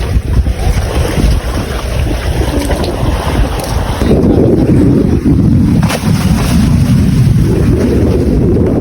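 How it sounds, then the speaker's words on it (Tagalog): Strong wind roars and buffets the microphone nonstop on a boat at sea during marlin fishing, while waves wash and slap nearby, growing louder and heavier midway through. "Medyo lumakas na naman yung hangin at yung alon"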